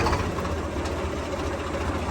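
Swaraj 855 tractor engine idling at low rpm, a steady, loud, low diesel rumble with an even throbbing pulse that holds unchanged throughout, with no voices over it.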